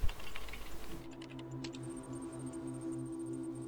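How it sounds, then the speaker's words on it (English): Soft keyboard typing in The Talos Principle video game, a quick cluster of clicking keystrokes over a steady low electronic hum, fairly quiet and without speech. "Why do I get keyboard noises when that's a touch thing?"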